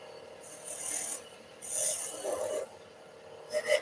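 A skew chisel cuts wood spinning on a lathe while a baby's rattle is turned, making three or four rasping, scraping passes separated by short pauses, close and fairly quiet.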